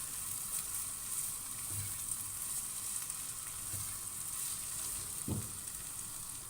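Onion sizzles steadily in hot oil with pepper and seven-spice mix for a minced-meat macaroni casserole, with a few soft stirring knocks breaking through the continuous frying hiss.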